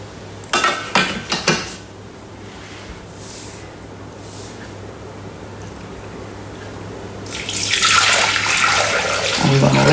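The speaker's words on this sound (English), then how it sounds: "So you want 1100 grams of water." Water pours into a Thermomix bowl in a steady, loud stream after a few clattering knocks of kitchenware, then swells into a brighter, rushing splash for the last few seconds.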